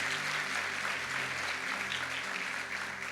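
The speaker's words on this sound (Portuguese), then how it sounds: "Você pode aplaudi-lo?" A church congregation at a Tabernacles gathering applauds for a few seconds, a dense, steady wash of clapping heard at moderate distance, with a faint voice underneath.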